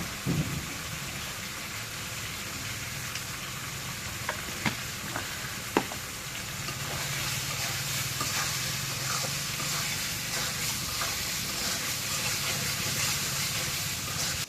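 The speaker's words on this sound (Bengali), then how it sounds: "এখন মশলাটা কষানি হচ্ছে" Spice masala sautéing in a pan, with a steady loud sizzle and hiss and a few sharp clinks of a utensil early on, the frying growing fuller toward the end.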